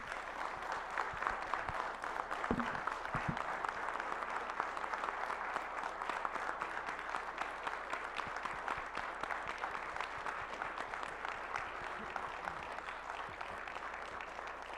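Sustained, steady applause from an assembly audience in memory of a speaker's late father, an even wash of clapping heard from some distance that continues without pause, with a few brief voices faintly mixed in.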